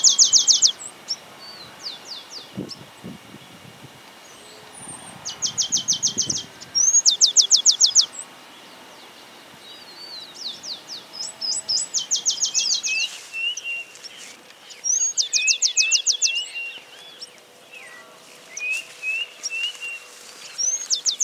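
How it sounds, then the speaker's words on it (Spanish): A Chaco sparrow (Rhynchospiza strigiceps) repeats a loud, rapid trilling song in short bursts every few seconds, with softer chirps in between over a quiet outdoor background in Argentina. "Emite un canto fuerte."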